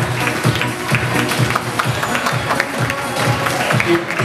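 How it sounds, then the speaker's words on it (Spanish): Audience applause at a televised casting show, rewarding contestants' homemade costumes: steady dense clapping throughout with crowd murmur mixed in, fairly loud and continuous. "también aplaudimos su creatividad porque la verdad le echaron muchísimas ganas"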